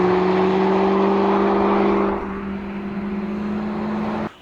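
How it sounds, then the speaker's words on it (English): A high-speed racing car drives past, a loud sustained engine roar with steady tonal hum that drops off midway and fades to a lower rumble before cutting out. "Wow, high speed racing car"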